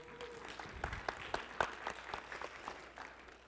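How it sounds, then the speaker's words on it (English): Audience applause in an indoor lecture hall, a dense steady patter of many hands clapping at moderate volume with a few sharper claps standing out, no voices over it. "Give Miss Pat a round of applause, everybody"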